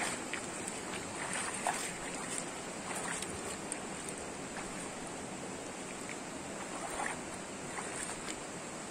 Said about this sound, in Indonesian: Nah, ini namanya Sungai Caruten, teman-teman.